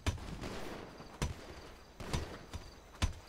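Gunfire in the video game GTA: several sharp shots ring out at irregular intervals over a constant background rumble, moderately loud and without talk.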